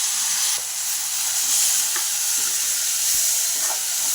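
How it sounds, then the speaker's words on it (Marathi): Washed moth beans and fresh coriander sauté in hot oil with a steady, close sizzling hiss and a few faint stirring clicks, no voices. "हे सगळं असं मिक्स झालं पाहिजे ना, असं परतलं गेलं पाहिजे तेलामध्ये"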